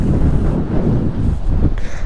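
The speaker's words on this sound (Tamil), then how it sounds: "அப்பா நல்லா காற்று சில்லுன்னு அடிக்குது." Strong cool wind gusting at the sea, roaring steadily into the microphone with a deep buffeting rumble throughout, close and loud, with no talk over it.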